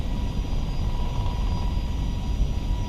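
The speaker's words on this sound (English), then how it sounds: "So you hear that little sound that sounds like a helicopter?" Steady helicopter-like whirring in the cockpit of an FSLabs A321neo flight simulator, a constant low rumble with a faint high tone, continuous and without speech.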